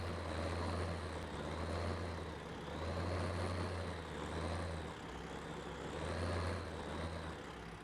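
Tractor engine running under autopilot in Farming Simulator 15 on the Smoky Mountains map, a steady droning hum with low rumble that swells and eases in slow cycles, alone without talk.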